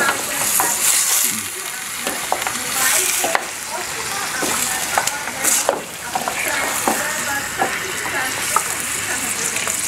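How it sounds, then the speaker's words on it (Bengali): Beef frying with browned onions in a pan, a continuous loud sizzle broken by repeated scraping and stirring clatters. "পেঁয়াজটা ভুনা হওয়ার পরে মাংসটা আবার পেঁয়াজের সাথে"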